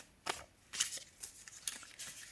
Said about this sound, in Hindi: मैं लास्ट आपके लिए कार्ड निकाल देती हूँ शफल करके आपके लिए।